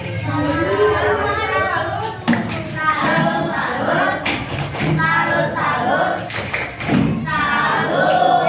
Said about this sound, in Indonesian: Sekali lagi, kasih tepuk salut untuk kelompok kita